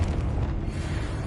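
A Confringo fire spell explodes in Hogwarts Legacy, giving a deep, rumbling low-end boom that sustains evenly for over a second, loud and close, without speech.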